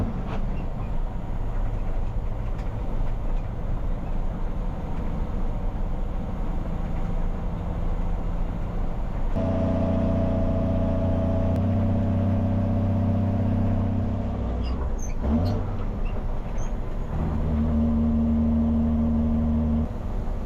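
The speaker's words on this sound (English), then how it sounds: "Old truck sound." An old truck engine idles and runs, a low rumbling drone that shifts into a heavier, tonal hum partway through, with a few knocks and clunks near the end.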